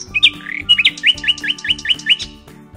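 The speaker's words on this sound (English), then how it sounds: "N is for nightingale," A nightingale sings over a children's animal alphabet song, giving a quick series of about nine bright rising chirps and whistles in a regular rhythm, loud and close above a steady musical backing.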